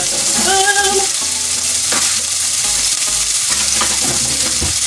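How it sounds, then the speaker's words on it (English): Vegetables, including red peppers and onions, searing in a hot pan while being stirred with a spoon: a steady loud sizzle with scraping stirs, close up, with no talking. "We're gonna sear off these vegetables first, y'all."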